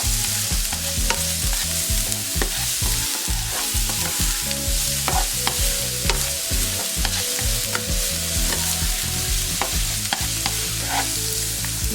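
Garlic and scallion sauté in a hot pan, making a loud, steady sizzle with the scrape and clatter of stirring and a low hum beneath, with no one speaking.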